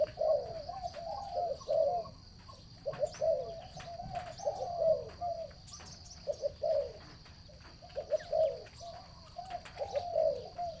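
Doves coo repeatedly in short rhythmic phrases, fairly close, with a steady high insect-like whine and faint outdoor noise behind.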